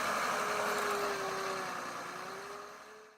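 A John Deere 1510G forwarder stuck in mud and snow, its engine droning steadily with a tonal whine that fades slightly near the end, heard alone without talk.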